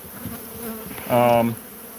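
Honeybees buzz around an opened hive with brood comb, a low droning hum that swells into one loud, close, steady buzz lasting about half a second before fading back.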